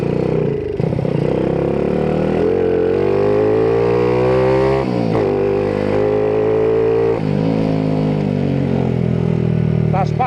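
A small motorbike engine revs loudly and close, its pitch climbing and falling through several surges, with a rattly, throaty roar throughout.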